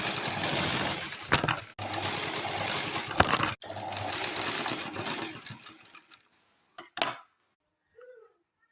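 A sewing machine stitches an invisible zipper into fabric, a close continuous mechanical whir in several runs broken by brief pauses and clicks, ending in quiet with a few faint taps.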